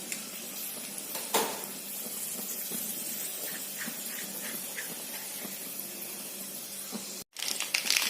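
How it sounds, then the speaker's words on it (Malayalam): Mustard seeds heat in hot oil with urad dal and dried red chillies in a pan, giving a steady close hiss with faint scattered crackles that is briefly cut by a short gap near the end. "കടുക് പൊട്ടാൻ തുടങ്ങിയിട്ടുണ്ട്."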